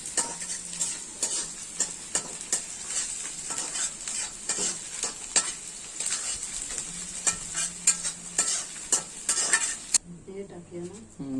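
A spoon stirs a cornflour and soy sauce mixture into chili frying in a pan, with steady sizzling and repeated metallic scraping and clinks against the pot, close up, before a short cut to quieter background noise.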